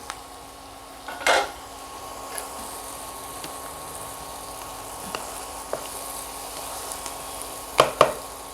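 Chopped green chilies frying in a pan for paneer bhurji, giving a steady low sizzle with occasional utensil clinks and scrapes, close by.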